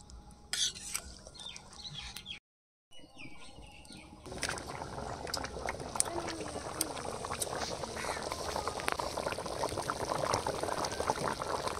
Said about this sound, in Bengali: ঝোল কিন্তু ফুটে হাফ হয়ে গেছে